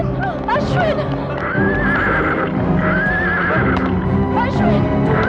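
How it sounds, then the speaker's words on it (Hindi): Horse whinnying in distress, its high wavering neighs rising twice over hoof clatter and a frantic crowd, with people shouting and calling out throughout in a dramatic film scene. "मम्मी इस घोड़े को क्या हो गया?"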